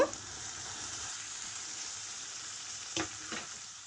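Chopped potatoes hit a pan of lightly fried onion and chili, giving a soft, steady frying hiss with a couple of brief scraping stirs near the end, fairly quiet and close.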